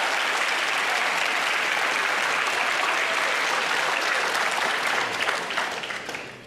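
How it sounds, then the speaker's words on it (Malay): A hall audience applauds two debaters before a Malaysian economic debate, steady dense clapping sustained for several seconds before tapering off at the end. "Apa kata kita memberikan tepukan kepada kedua-dua pendebat, Yang Berhormat Rafizi Ramli"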